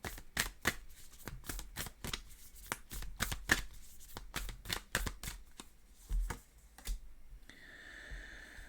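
A deck of tarot cards is shuffled close up in quick, crisp riffling bursts and taps that continue steadily, ending with a faint hiss.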